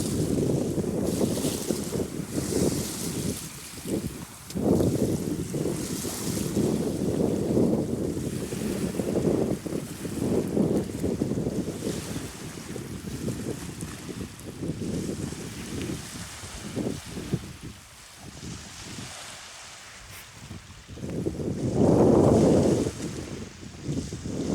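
Sea waves roll and wash in steady surges under gusting wind and microphone buffeting, with a louder swell near the end; no one speaks.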